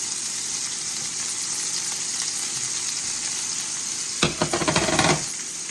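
Steady, gentle sizzling of shrimp frying in a pan, with a brief burst of louder crackling and clattering near the end.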